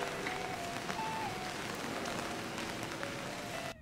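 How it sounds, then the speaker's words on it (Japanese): Heavy rain on a day out in Aoyama, Tokyo, a dense, steady wash of patter close by that holds at an even level throughout with no talk, cutting off abruptly at the end. "何やら今日はすごい大雨なのですが"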